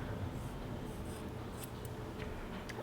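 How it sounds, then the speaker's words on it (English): Scissors snip through hair during a home haircut, a close, soft crunching rasp that runs steadily with a few sharper clicks, no voices heard. "Yeah, the scissors literally won't cut the other direction."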